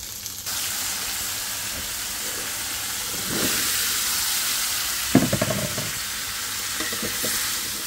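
Taro stolons being stir-fried in a pan give a steady hissing sizzle, with louder bursts and scraping stir strokes rising at intervals, close and continuous.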